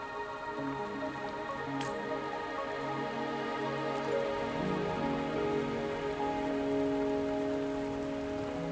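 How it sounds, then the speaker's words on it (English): Steady rain falls continuously in the video game Wuthering Waves, a dense even patter on surfaces with soft sustained music tones underneath, and no talking. "Are you trapped here by the rain?"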